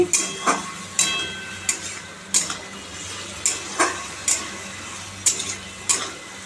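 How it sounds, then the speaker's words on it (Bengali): Potatoes and peas stir-fried with salt, turmeric and spices in a wok, a low steady sizzle broken by regular metal-spoon scrapes and clinks about every second, close and clear with no talking. "কড়াইশুঁটিগুলো দিয়ে দিয়েছি এবার এটা ভালো করে কষাবো"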